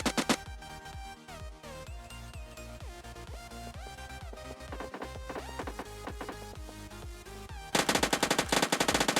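Micro Uzi gunfire in a battle royale video game: rapid automatic bursts ring out over steady game music, getting loudest in a dense volley near the end. No one speaks.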